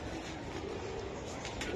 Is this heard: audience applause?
no